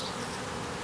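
Honeybee attendants buzzing as they are released from a queen cage while making nucs, a dense continuous close drone with no talking.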